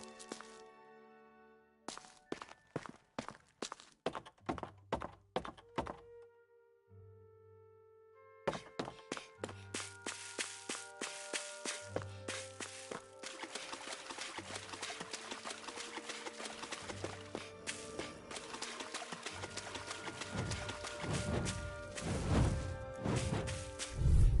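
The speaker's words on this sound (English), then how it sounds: "I always love the sound of hammers banging away." A steady, rhythmic run of sharp metallic hammer blows rings out in the video game Tales of Arise. It pauses briefly, then returns denser and louder over a backdrop of game music.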